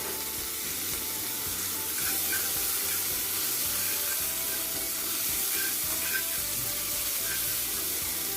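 Onions frying in a pan over high gas heat, a steady close sizzle and crackle that continues unbroken throughout with faint stirring.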